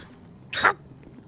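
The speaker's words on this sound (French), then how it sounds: "Nous avons trouvé un toutou, regardez derrière vous." A dog gives a single short, sharp bark, clear and fairly close, over quiet background hum, with nothing else around it.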